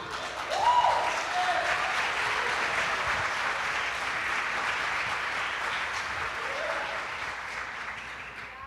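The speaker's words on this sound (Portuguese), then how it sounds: "Se for aplaudir, tem que aplaudir direito." Congregation at an international church convention bursts into sustained applause that holds steady and full for about eight seconds, a dense wash of clapping with a brief voice early on.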